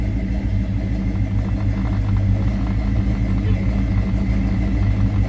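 A 1970 Chevrolet Chevelle SS idles nearby, its engine giving a deep, steady, loud rumble with an even pulsing throb throughout.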